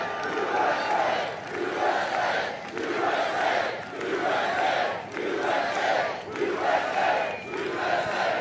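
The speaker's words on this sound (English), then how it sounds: "This is a hell of a crowd" A big outdoor political rally crowd near an airport hangar roars and cheers in rhythmic, swelling waves, loud and continuous, with no single voice standing out.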